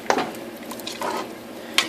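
A spoon stirs simmering chili in a pot, giving a few short scrapes and clinks against the metal in quick, uneven strokes.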